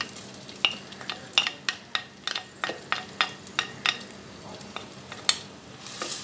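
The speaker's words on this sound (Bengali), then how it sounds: "তেলের সাথে ভালো করে নেড়েচেড়ে একটু ভেজে নিব" Chopped onions frying in hot oil for a Bangladeshi kachki shutki dish, a steady soft sizzle broken by a dozen or so sharp scraping clicks of a spoon stirring through the pan.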